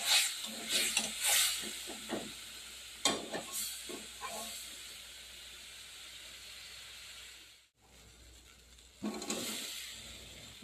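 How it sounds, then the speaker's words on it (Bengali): Spiced masala with chili powder sizzling and hissing in a pan for crab curry, with intermittent stirring scrapes over a steady fry, near and fairly quiet, briefly dropping out before resuming. "দিয়ে দেবো লঙ্কার গুঁড়ো, দিয়ে ভালো করে কষে নেব।"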